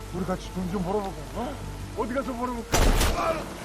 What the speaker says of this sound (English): A gunshot rings out, and the kidnapper falls to the ground.